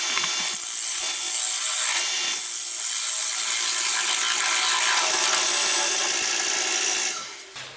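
Tools chop a mortise out of a wooden workpiece in a dense, loud, near run of rough scraping and knocking that continues for several seconds before ending abruptly.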